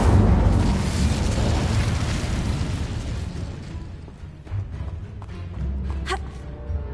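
An Incendio fire spell cast in Hogwarts Legacy, opening with a loud fiery roaring burst that gradually fades, followed by a soft thump and a brief bright magical chime.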